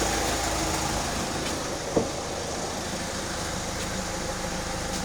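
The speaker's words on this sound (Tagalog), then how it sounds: "Buhay yung compressor." Air conditioning compressor of a 2016 Hyundai Santa Fe running steadily with the engine idling, a constant low mechanical hum with one brief click partway through, no voices.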